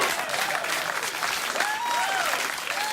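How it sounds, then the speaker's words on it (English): Studio audience on a late-night talk show bursts into loud, sustained applause and cheering that fills the whole stretch without letup. "Please don't applaud."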